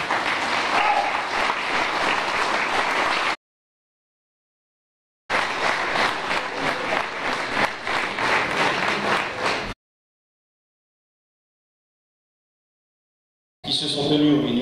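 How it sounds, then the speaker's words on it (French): Audience applause at a ceremony honouring a young ski racer, a world champion in city giant slalom: two sustained bursts of dense clapping separated by a silent gap, with a third burst starting at the end. "Je crois qu'on peut l'applaudir."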